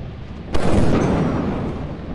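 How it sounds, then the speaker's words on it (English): Thunder cracks suddenly in the video game Lethal Company, a loud close boom that rolls and rumbles away over the next second and a half. "It's lightning out."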